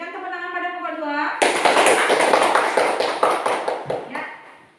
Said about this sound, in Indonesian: Berikan tepuk tangan pada kelompok